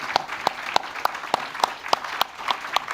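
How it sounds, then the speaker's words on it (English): At a conference on the Helsinki Declaration's 50th anniversary, an audience gives a round of applause for panelists, heard as a steady, evenly spaced series of distinct claps in a hall. "a warm round of applause for the panelists"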